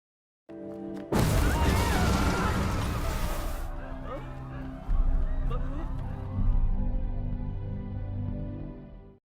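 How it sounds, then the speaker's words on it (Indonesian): A loud, sudden boom of a grenade explosion in a film bursts out, followed by rumbling debris and a second heavy impact, with crashing noise trailing off. "Ledakan besar terjadi."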